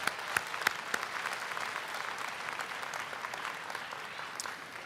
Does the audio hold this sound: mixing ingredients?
no